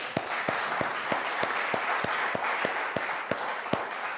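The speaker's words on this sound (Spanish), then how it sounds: "Denle un aplauso a Dios." Church congregation clapping and cheering, with a steady, rhythmic clap cutting through the broad applause roughly three times per second.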